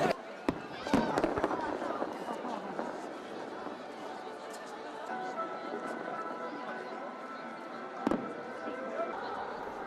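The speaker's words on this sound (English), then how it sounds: "the Eiffel Tower sparkled at the stroke of midnight, while fireworks lit up the night sky" Fireworks bursting over Paris around the Eiffel Tower at New Year's midnight, with sharp loud bangs near the start and again later over a steady roar of a distant crowd and overlapping chatter.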